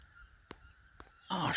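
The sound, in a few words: ducks honking near a lake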